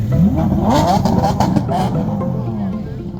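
Truck engine revving loudly up close, with a rising roar and clattering that settles into a steady idle, while someone talks over it.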